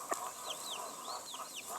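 Chickens cluck and chatter near the microphone while being fed, short repeated clucks and soft squawks over a quiet outdoor background.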